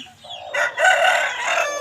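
A short-nose long-tail chicken gives a close, loud crow lasting most of the moment, preceded by a brief softer cluck.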